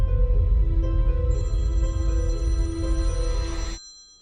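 A phone rings with a steady electronic tone, layered and sustained for several seconds, fairly loud and close, before cutting off abruptly into near silence.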